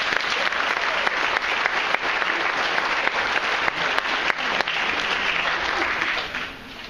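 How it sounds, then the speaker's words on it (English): A large audience applauds student speakers at the Globe University Madison spring 2012 graduation ceremony. Sustained, dense clapping with a few sharp claps rises above the rest, then tapers off at the end. "Let's give them a brief round of applause."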